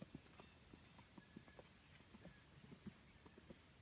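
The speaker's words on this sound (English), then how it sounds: "Actually, these are my brother's horses, the one I'm staying with, Greg." Several horses walk at dawn, hooves clip-clopping in a steady, uneven rhythm at close range over a constant high insect-like drone, with no talking.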